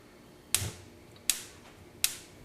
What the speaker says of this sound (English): as long as the knob is in the light position, the clicking will continue